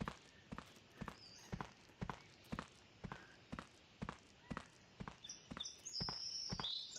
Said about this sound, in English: I think I can hear my footsteps pretty good.